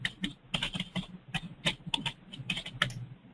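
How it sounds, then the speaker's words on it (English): Rapid, irregular clacking of keys on a computer keyboard, loud and close, tapping in uneven bursts with short pauses and no voices. "Your typing is it's pretty loud over here"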